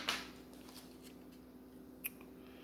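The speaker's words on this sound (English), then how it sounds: "I kind of fucked up the shuffle and put them upside down anyway" Tarot cards are shuffled in a quiet room, a quick papery riffle at the start followed by a soft single card snap a moment later, close and faint.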